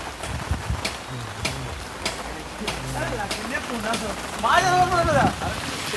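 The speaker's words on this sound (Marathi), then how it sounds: "पावसाची सुरुवात" Heavy first monsoon rain in the Konkan patters steadily on a surface while people talk over it throughout, with one voice rising louder near the end.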